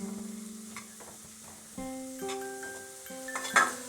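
Cabbage and other vegetables frying in a pan over a medium-high flame for chicken soup: a soft, steady sizzle with light stirring scrapes and a utensil clink near the end, under sustained melodic tones.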